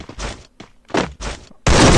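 Several sharp gunshot bursts come from a shooting video game: short loud cracks spaced irregularly, then a sustained louder blast at the end.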